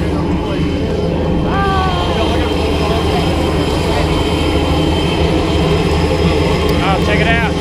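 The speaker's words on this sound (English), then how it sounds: "There's our plane." An airplane engine drones loudly and steadily before a skydive in Tennessee, a close constant roar with a person talking over it.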